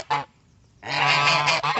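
Geese honk loudly and close by on a Cameroon farm, one short honk followed after a pause by a longer, raspy run of honking calls.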